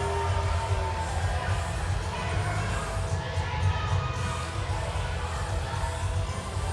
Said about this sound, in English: The crowd approves.